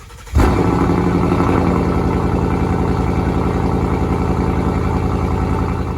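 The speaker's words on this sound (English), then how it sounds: "You've just heard my Mustang" A Mustang engine starts abruptly after a short quiet moment and settles into a loud, steady, lumpy idle close by, its throbbing rumble continuing to the end with no talking.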